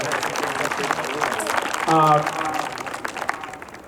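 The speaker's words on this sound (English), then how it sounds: "Let's just clap for them right now because they deserve it." Audience applause for the helpers at a high school band public performance, a spread of claps and crowd noise beneath people talking, with a brief whistle or cheer in the middle.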